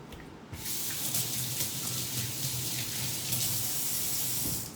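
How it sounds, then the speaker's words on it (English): A running tap gushes into a kitchen sink during hand washing, a steady close hiss of flowing water that starts abruptly and continues evenly, with no talk. "I need to wash my hands."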